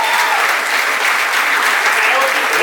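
An audience at an honours ceremony breaks into loud, dense applause that holds steady for a few seconds, with faint voices mixed in beneath the clapping.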